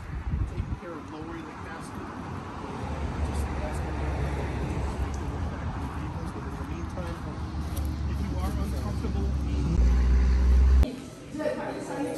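A car driving along a road, heard from inside as a steady, loud engine and road rumble with wind noise that builds gradually and then cuts off sharply near the end.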